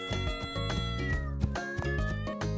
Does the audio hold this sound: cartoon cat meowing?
yes